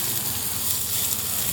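Finely chopped onions sizzle steadily in a hot pan alongside ground beef, a continuous close crackle and hiss with no talk over it.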